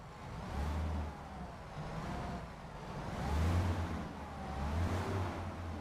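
A truck engine in American Truck Simulator revs in three swelling surges, a steady low drone between them, loud and close with no voices.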